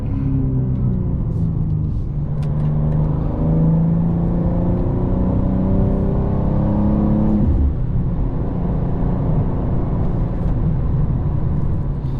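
A 2023 BMW M2 pulls hard in second gear, its engine note rising steadily in pitch as it revs, then dipping briefly around a shift before climbing again, loud and continuous from inside the cabin.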